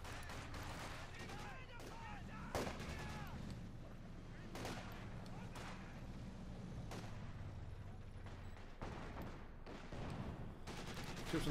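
Battle sounds from a Company of Heroes 2 match: an Ostheer Flak Panzer's rapid gunfire bursts among other weapons and distant booms, all under steady caster commentary throughout.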